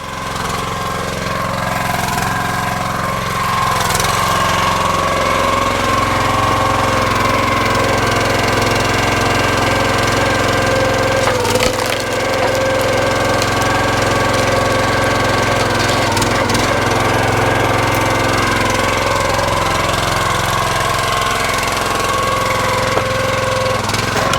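A wood chipper engine runs steadily for the whole span, working through softwood and hardwood pieces; a loud, continuous mid-pitched drone with a brief louder surge partway through, no talk over it.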